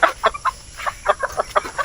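Native chickens on a small farm cluck rapidly and repeatedly, close and clear, in quick bursts.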